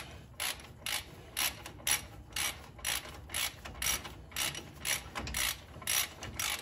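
A ratchet with a 21 millimeter socket loosens a brake caliper bolt on a Ford F-250, producing a steady run of rapid clicking bursts in regular strokes, close and clear with no speech.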